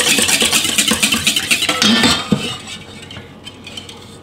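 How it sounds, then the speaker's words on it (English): Wet ingredients being mixed into dry cornbread ingredients in a bowl, with loud, close, rapid clinking and scraping of a utensil against the bowl that later softens and thins out. "So now we're going to add the wet ingredients to the dry ingredients."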